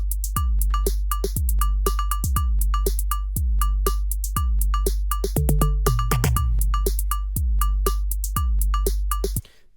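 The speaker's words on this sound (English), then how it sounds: "my completed drum loop sounds like this" A programmed drum loop plays steadily: punchy kicks, snappy snares and ticking hats repeating in a tight, even pattern, loud and alone, ending abruptly.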